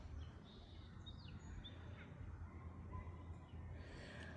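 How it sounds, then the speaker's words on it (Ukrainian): Faint birdsong chirps drift in from a distance over a steady low outdoor rumble beside a lake in Canada, scattered calls coming and going. "Чуєте, співають пташечки."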